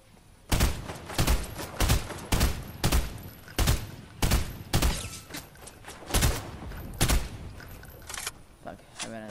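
Rapid bursts of gunfire in a Fortnite match, roughly a dozen sharp loud shots in an uneven rhythm that thins out toward the end, with no talk over them.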